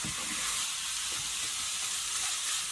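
Ground meat simmering in a pan for a potato and minced meat gratin, with a steady, dense sizzle and frying hiss that continues without a break and no voices.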